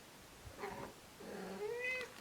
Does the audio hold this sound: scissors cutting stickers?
no